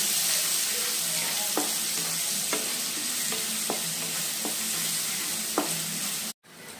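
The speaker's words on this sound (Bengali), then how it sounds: "এখন আমি এটা ততক্ষণই ফ্রাই করবো যতক্ষণ না রসুনের কাঁচা গন্ধটা বেরিয়ে যায়।" Chopped garlic fries and sizzles in a pan as it is stirred for palak paneer, a steady close hiss broken by several sharp scraping clicks of the spoon, ending in a brief cutoff.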